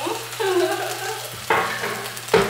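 Green beans and ground beef sizzle and crackle in a hot pan, with a steady hiss and a few louder stirring bursts near the end.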